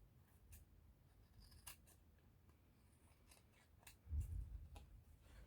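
Scissors trim the edge of a handmade paper Christmas tag in a series of quick, quiet snips at close range, followed by a soft rustle as the paper is handled.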